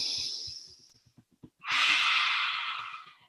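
Deep breathing during a qigong and tantra meditation exercise: soft huffing breaths, then one long, loud, close inhale that fills the second half, with no talk.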